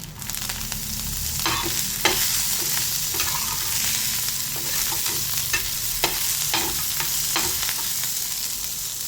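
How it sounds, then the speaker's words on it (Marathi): Cumin and coriander frying in a little oil for a village-style potato thecha, giving a steady close sizzle broken by sharp clicks and scrapes of stirring. "तेल टाकलं थोडं तर बघू शकता इथे मस्त जिरे तळल्या गेलेले आहे."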